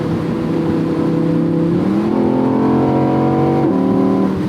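A 2018 Audi R8 V10 Plus Spyder's naturally aspirated 5.2-liter V10 revs loud and close, its note climbing through stepped gear-like rises and holding high, with no talk over it.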